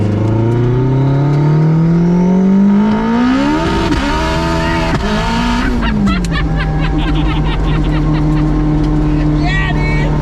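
A 1000-horsepower Acura RSX DC5 roars hard through first gear on the street, its loud engine note climbing steeply in pitch, dropping at a shift, then pulling again, while occupants shout and talk excitedly over it.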